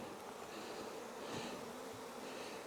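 Honey bee swarm buzzing steadily during a hive transfer, a dense continuous hum of many bees close by, with no talking.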